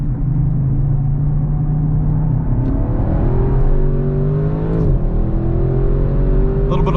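A 2021 Audi RS6 Avant engine drones loud and close on a race track, a steady low-pitched roar whose pitch climbs through gears, dips at a shift, then rises again as the car accelerates.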